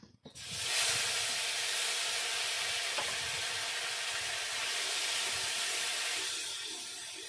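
Whole garam masala with ginger, cumin and garlic paste fries in hot oil for a Bengali egg curry, giving a steady, close, loud hiss and sizzle that holds unbroken for several seconds, with one faint clink partway through.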